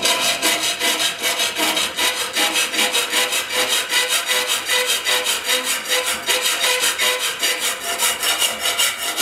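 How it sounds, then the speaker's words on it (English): Hand sawing through metal patch pieces for a Yamaha RS 100 motorcycle fuel tank repair, a loud, close, rapid rhythmic rasp of evenly repeated strokes that carries on without a break. "Now I'll just cut these out and I'll weld them into my new patch."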